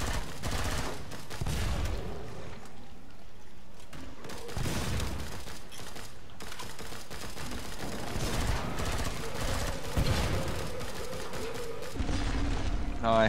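Rapid, continuous gunfire from the shooter game Killing Floor 2 fills the whole stretch, dense bursts of shots and mechanical clatter playing steadily at moderate loudness.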